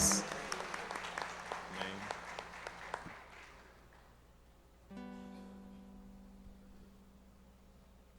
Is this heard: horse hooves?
no